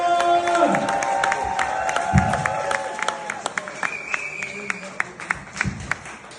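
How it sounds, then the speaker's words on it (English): A comedy club crowd in Middlesbrough cheers and applauds as a comedian is introduced, with whoops and voices at first, then scattered sharp claps, and someone speaking over the noise. "please take the roof off and start cheering for Stuart Sharp, everyone!"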